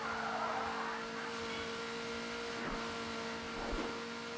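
A car engine in the racing video game Burnout 3: Takedown holds a steady, moderately loud drone under gritty road noise, with brief swells that suggest tire skids.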